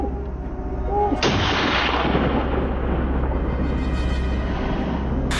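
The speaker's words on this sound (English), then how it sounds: "Henry and I quickly grabbed our guns and fired. A loud bang tore through the silence" A hunting gun fires at wild boars, one sharp loud bang followed by a long rolling echo and rumble across the landscape, then a second abrupt report near the end.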